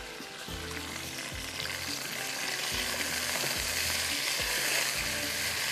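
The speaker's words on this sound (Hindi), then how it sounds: "इसको ये एक तरह से फ्राई करना है इस मसाले में" Butter chicken wings frying in a spice masala, a continuous hissing sizzle with low rhythmic scraping and stirring strokes underneath, close and steady throughout.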